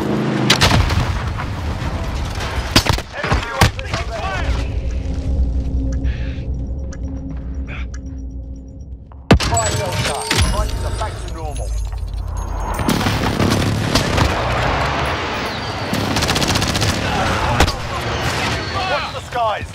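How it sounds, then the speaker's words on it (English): Repeated gunfire and booming shots ring out in a first-person shooter video game match, with rooftop shooters firing; bursts come steadily throughout, loud and close, with some team chatter mixed in. "But they are shooting from the roof,"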